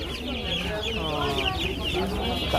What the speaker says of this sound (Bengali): ওই মুরগিটা কি মুরগি? টাইগার মুরগি।